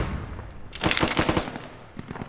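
Gunfire in the video game Squad, a rapid close burst of about eight shots in the middle, followed by a few fainter scattered shots after a short pause.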